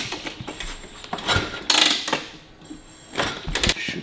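A 1941 Harley-Davidson WLC motorcycle is kicked over repeatedly with full choke and throttle, giving several loud mechanical clunks and ratcheting kick-lever strokes without the engine catching.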